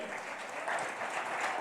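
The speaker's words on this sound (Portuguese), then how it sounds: "Eu queria que você aplaudisse pela vida do Adriano." A church congregation applauds during a celebration service, a steady, fairly faint patter of many hands clapping heard from a distance.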